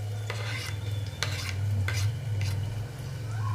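Ginger-garlic paste frying in a pan for a Maharashtrian dish, a steady close sizzle with a low bubbling hum underneath and a few sharp scraping strokes of a spoon stirring through it.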